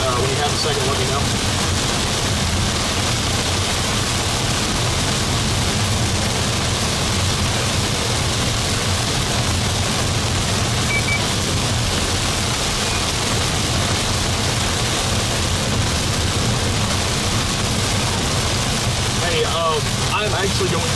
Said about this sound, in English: Ryan, I'm not sure if you can hear me with how hard it's raining